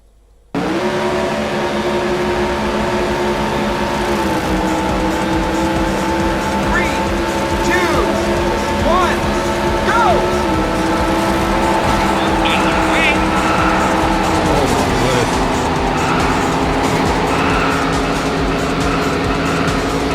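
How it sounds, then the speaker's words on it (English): Racing car engines in a Dreamcast video game at the start of a race, a loud steady roar with rising and falling revs held throughout, with voices talking over it. "Ladies and gentlemen, start your engines."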